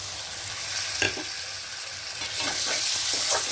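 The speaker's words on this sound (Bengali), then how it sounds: "এবার চিকেনটা দিয়ে মশলাটা খুব ভালো করে কষিয়ে নেবো" Chicken being stir-fried in a pan with a spice paste of ground chili and other spices, giving a steady close sizzle with a few soft scraping stirs, no voices.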